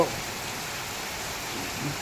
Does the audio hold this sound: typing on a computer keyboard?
no